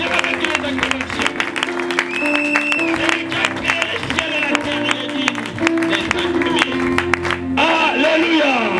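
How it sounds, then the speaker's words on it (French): A congregation at a church seminar applauds and cheers in a lively, sustained burst of clapping, shouts and whoops, mixed with voices throughout. "Est-ce que tu peux exagérer avec les acclamations?"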